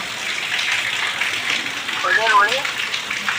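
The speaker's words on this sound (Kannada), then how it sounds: "ಇವತ್ತ ಅಚಾನಕ್ ಒಮ್ಮೆ ಮಾಡಾಗಿ ಮಳೆ ಬಂದ್ಬಿಡ್ತು ನೋಡ್ರಿ" A sudden rain shower falls with a steady, dense hiss that swells slightly partway through, and a voice talks briefly over it.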